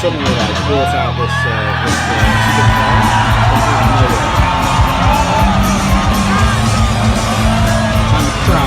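A concert crowd cheering and yelling as heard from a played-back recording of a live show, loud and dense with whoops and shouts over pounding music, continuing throughout.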